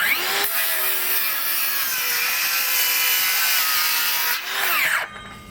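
A DeWalt 20-volt cordless circular saw whines steadily as it cuts through wood, loud and close, holding for several seconds before spinning down at the end.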